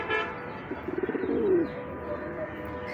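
A racing pigeon coos nearby, giving a short run of soft, rhythmic throaty pulses that rise into a brief rolling call, with quiet background noise around it.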